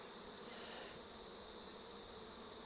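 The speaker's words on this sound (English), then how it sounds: "And bees buzzing around your head." Honey bees buzz around a beehive in a steady, dense drone that fills the whole stretch evenly with no pauses, close and continuous, with no voices.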